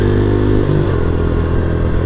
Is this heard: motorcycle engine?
yes